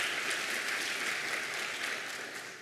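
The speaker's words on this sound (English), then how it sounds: "Let's give Ann a round of applause" Audience applause at a conference meeting, a steady wash of many hands clapping at moderate, slightly distant level for the whole stretch, fading a little toward the end.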